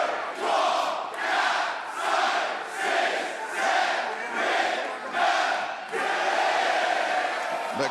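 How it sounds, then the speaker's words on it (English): A Quebec City wrestling crowd at an AEW show chants in unison, rhythmic loud bursts roughly every second like counting along, followed by sustained roaring from the packed arena. "The crowd here in Quebec City counting along as Roderick Strong sinks to the mat."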